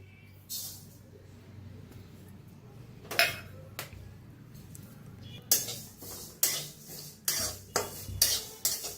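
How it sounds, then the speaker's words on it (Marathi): Sesame seeds dry-roasting in a kadai, stirred with a metal spatula: a quiet low background with a run of sharp scraping and clinking strokes that grow rhythmic and frequent toward the end, no voices. "पहिलं तीळ भाजून घेऊया"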